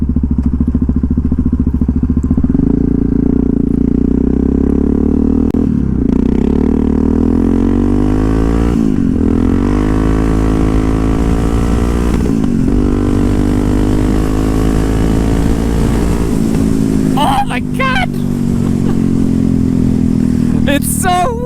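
A Yamaha MT-03 motorcycle engine revs while being ridden, loud and close, the pitch climbing steadily through the rev range with brief dips between pulls and some wind buffeting near the end.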